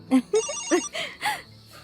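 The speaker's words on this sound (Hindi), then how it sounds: "रुक जा, माँ का फोन है।" A mobile phone ringtone plays close and loud, a quick melodic run of bright, separate electronic tones that fades out at the end.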